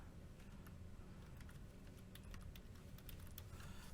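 Keystrokes on a computer keyboard patter quickly and irregularly, faint and close, over a constant low background rumble, with no voices.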